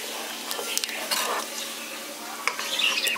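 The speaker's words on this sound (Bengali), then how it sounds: "ফোড়নটা দিয়ে হালকা একটু ভেজে নিচ্ছি।" Dry red chilli and whole cumin seeds frying briefly in hot mustard oil, a soft steady crackle with scattered sharp pops and a spoon stirring against the pan, close and unaccompanied by talk.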